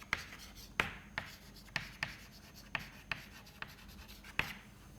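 Chalk or pen writing during a numerical methods lecture on finite elements for fluids, a quiet series of short tapping strokes and scratches in an irregular rhythm, with no speech.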